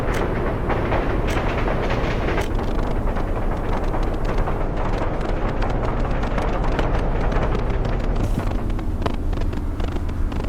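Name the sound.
trains arriving in the video game Workers & Resources: Soviet Republic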